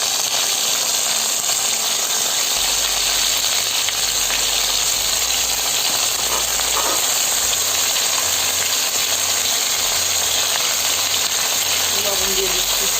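Green beans tipped into a hot pan with potatoes for a Bangladeshi-style stir-fry give off a steady, broad sizzle that holds for the whole stretch, with a low rumble entering underneath after a few seconds.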